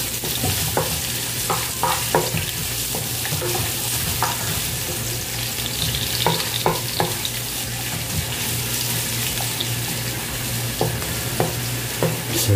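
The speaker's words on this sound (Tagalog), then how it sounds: "toast lang natin ating luya tsaka bawang" Garlic and ginger toasting in hot cooking oil, a loud continuous sizzle with frequent spatula clinks and scrapes against the pan, close by.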